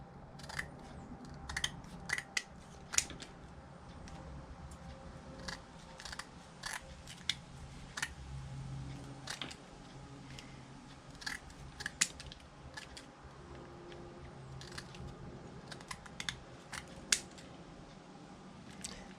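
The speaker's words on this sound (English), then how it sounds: "And then I just trim off the edges." Scissors trimming the edges of material while fox and coyote traps are prepared, sharp close snips and clicks repeating at irregular intervals over a quiet background, with no talking.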